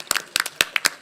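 A few people clap in sparse, uneven bursts for a pianist at a small concert, each hand clap sharp and distinct, close by, with no crowd roar.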